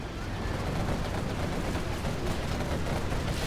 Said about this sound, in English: artillery coming through